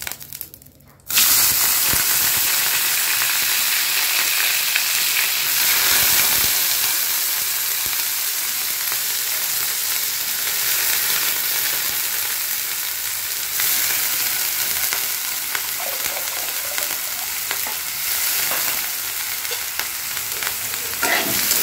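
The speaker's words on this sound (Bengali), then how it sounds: "পেঁয়াজগুলোকে তেলের মধ্যে দিয়ে দেবো" Finely chopped onions frying in hot oil for a chicken dish, bursting into a loud, dense sizzle after a brief quiet start and holding a steady crackle with occasional stirring throughout.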